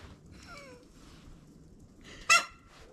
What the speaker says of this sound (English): I have never heard a chicken sneeze